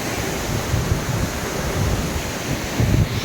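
Water rushing at a waterfall in the Sahyadri ghats, a steady loud broadband roar filling the whole stretch with slight surges, no talk.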